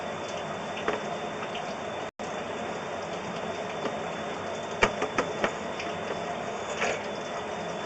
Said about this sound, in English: I wouldn't be getting this much water coming through there